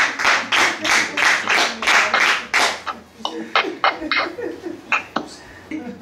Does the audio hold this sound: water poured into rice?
no